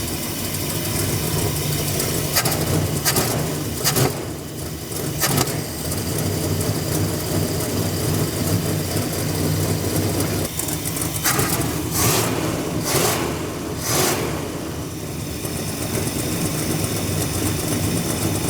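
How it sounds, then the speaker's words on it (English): An old Dodge Monaco engine sits on a stuck fast idle, shaking and running roughly, with a loud continuous rumble broken by uneven surges and knocks, and no voices. "That fast idle keeps kicking on because it's not hot enough yet."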